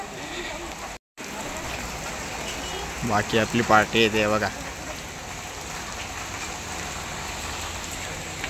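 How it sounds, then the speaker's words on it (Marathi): Heavy rain falls steadily at the foot of a hill fort, a dense continuous hiss throughout, while someone speaks briefly partway through. "हे बघा पाऊस अजून पण पडतोय, चालूच आहे"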